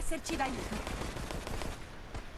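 Rapid bursts of gunfire in the survivor mode of the video game Resident Evil Resistance, played on PS4, with dense repeated shots over game noise and a faint voice underneath.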